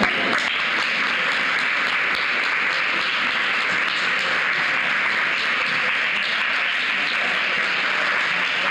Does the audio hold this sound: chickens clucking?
no